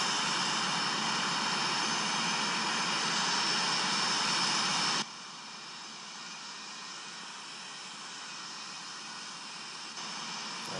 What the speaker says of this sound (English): That sounds like the Avianca. It's going for a touch and go.